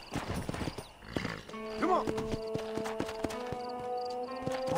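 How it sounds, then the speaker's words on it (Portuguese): Horse in the Red Dead Redemption video game gives a clear whinny, with clip-clop hooves before and after, under game background sounds and someone talking. "Ah, não, monta no cavalo."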